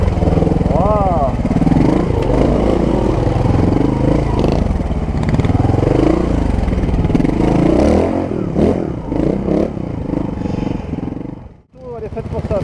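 A Montesa 300RR trial motorcycle engine revs and labours while being ridden, rising and falling with throttle changes and some clatter. French-speaking riders talk excitedly over it, and the engine dips briefly near the end.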